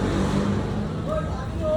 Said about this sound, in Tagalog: ang daming sasakyan ngayong gabi na